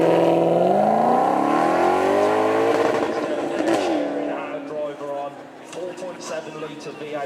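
A Maserati supercar engine at a supercar weekend revs up in a rising, loud wail, then settles into a rougher idle amid crowd noise, with a voice talking over it.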